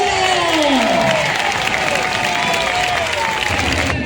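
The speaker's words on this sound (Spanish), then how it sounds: "¡Fuerte el aplauso!" Crowd applause and cheering fill an outdoor bullring during a recortadores bull-dodging show at a town fiesta, steady and loud throughout with voices shouting over it.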